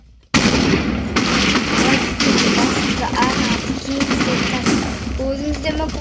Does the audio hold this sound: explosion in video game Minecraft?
yes